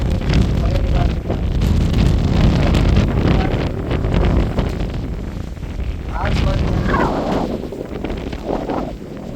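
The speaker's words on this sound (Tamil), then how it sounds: "அந்த மாதிரி ஒரு புயல் காற்று மாதிரி வந்தது." Strong storm wind gusting through a village, a steady loud roar of broadband buffeting with surges and lulls.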